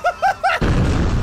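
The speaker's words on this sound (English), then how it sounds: "Sticky bomb!" A sticky bomb explodes in a video game, preceded by three short rising electronic beeps. The blast then comes as a loud, sudden boom that rumbles on briefly.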